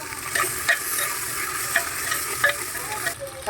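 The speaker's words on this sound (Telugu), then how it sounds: "జింజర్ గార్లిక్ పేస్ట్ తీసుకొని వేసేసి దీన్ని కూడా ఫ్రై చేసేయాలి." Ginger garlic paste sizzling loudly in a pan for mushroom biryani, a dense close frying hiss broken by several crisp stirring scrapes.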